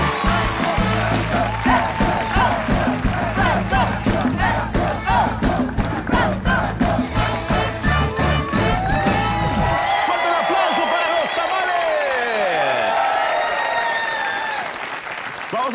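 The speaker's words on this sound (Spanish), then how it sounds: "Fuerte el aplauso" Studio audience at a Franco Escamilla comedy show breaks into applause and cheering, with rhythmic clapping and shouts over a strong beat at first, then wild whoops and yells as the music drops out.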